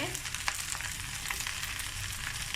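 Leftover chicken pieces fry in a wok of nasi goreng with chili, making a steady, soft sizzle with light crackles close by.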